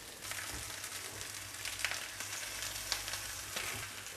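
Oyster blade steak fries in a hot pan, a steady broadband sizzle with faint crackles and a few sharper pops, continuous and fairly quiet throughout.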